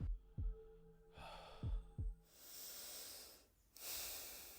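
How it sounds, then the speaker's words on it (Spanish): A sleeper's slow, deep breathing, used as a sound effect in an audio story, is heard very close. A few soft low thumps come first, then two long, airy breaths swell and fade with no talking. "Una respiración, muy cerca, lenta, profunda, como la de alguien que duerme profundamente"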